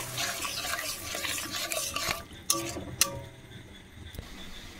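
Spiced potato mixture being mixed in a bowl for potato balls, a steady close scraping and stirring texture with a few sharp clicks toward the end, no voices.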